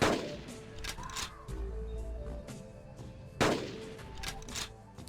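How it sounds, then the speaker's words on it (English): Rifle shots in the Carnivores dinosaur hunting video game, two loud, close booming reports about three seconds apart, each followed by a rumbling tail, over quieter ambient game sound. "Two rifle rounds brings the odd herbivore down"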